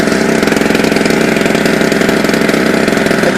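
A generator engine runs steadily nearby, loud and close, with a constant rapid pulsing drone and no pauses.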